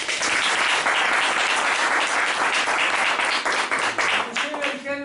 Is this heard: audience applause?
yes